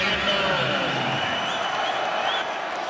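A stadium crowd at an LSU vs Florida college football game, a broad, steady roar of cheering and clapping heard from a distance beneath a commentator's voice.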